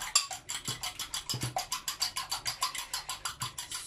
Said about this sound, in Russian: Чуть-чуть подсолю яйцо, немножко взобьем его.